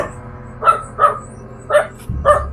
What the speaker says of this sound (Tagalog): Maraming aso dito. Ito ay aso ng mga kapitbahay namin